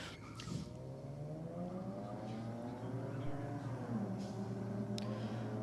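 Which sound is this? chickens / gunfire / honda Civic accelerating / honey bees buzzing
honda Civic accelerating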